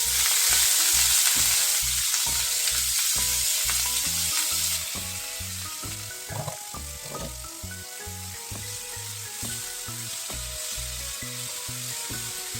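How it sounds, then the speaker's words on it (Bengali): Small shrimp sizzle steadily in hot oil, a loud, continuous crackle broken by regular scraping strokes as the pan is stirred. "তেল গরম হয়ে গেছে, এবার আমি চিংড়ি মাছগুলো ছেড়ে দিলাম"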